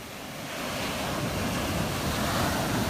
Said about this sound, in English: The waves are a little bit more pumping.